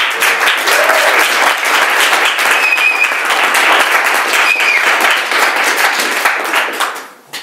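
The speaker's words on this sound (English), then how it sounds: "Please give her another round of applause." Loud, sustained audience applause after a poetry reading at the Paterson Poetry Center, dense clapping from a full room that holds steady for several seconds before fading out.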